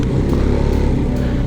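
A Royal Enfield Himalayan 450 motorcycle engine runs loud and close at a steady idle-like throb during a track ride, with no talk over it.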